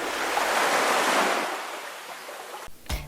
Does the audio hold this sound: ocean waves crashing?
yes